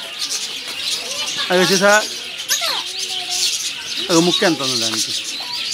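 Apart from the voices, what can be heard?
lovebirds chirping at Nehru Zoological Park, Hyderabad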